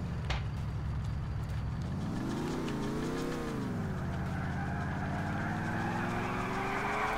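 A Volkswagen Karmann in GTA IV revs its engine steadily, the pitch climbing, dipping and rising again as the car drives along, close and continuous, with no talk.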